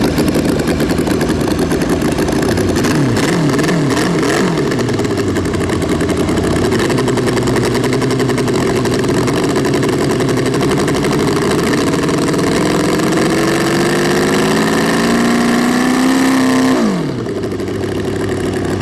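A model V8 engine built from a casting kit runs loud and close, a busy rapid drone with fluctuating revs that rises in pitch late on, then drops sharply as it cuts back near the end.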